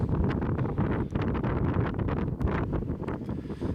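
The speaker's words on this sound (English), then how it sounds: "The wind is just too much." Strong wind blows across the coast at Kimmeridge Bay in Dorset, buffeting the microphone with constant rough gusty roaring and rustling, loud and close throughout, no voices.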